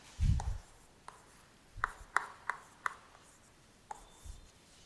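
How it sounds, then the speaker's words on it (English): A pen or chalk writing a matrix by hand during a mathematics lesson, making soft scratchy strokes and a few sharp taps in an irregular rhythm, close and faint over a quiet room. "So I'll write the matrix"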